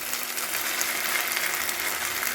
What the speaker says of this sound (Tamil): நல்லா வெங்காயம் வதங்கிட்டு இப்போ இந்த லிவரை நம்ம போட்டுக்கலாம்.